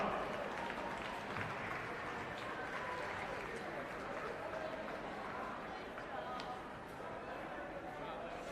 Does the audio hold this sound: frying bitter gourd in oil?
no